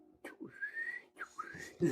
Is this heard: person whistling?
yes